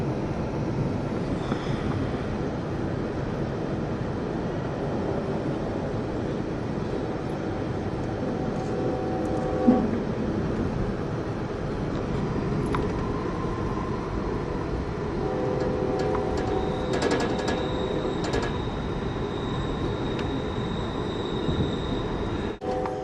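California Zephyr passenger train crossing a high double-track trestle over Interstate 80, a steady loud rumble of rolling cars with faint wheel squeals and a brief clank partway through.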